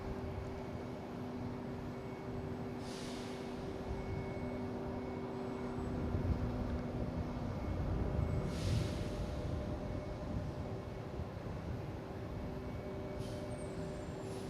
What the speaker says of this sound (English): Cessna 402.